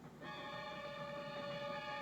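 A moving train sounds a sustained steady horn or whistle tone over a low rolling rumble from the rails, heard alone without speech.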